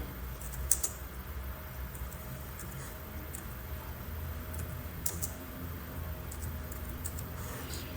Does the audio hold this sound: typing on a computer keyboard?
yes